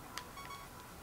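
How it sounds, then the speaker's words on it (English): Short electronic beeps from the Legend of Zelda: Ocarina of Time game, a quick bright bleep followed by a couple of softer tones, faint and clear of speech. "Stop this incessant beeping."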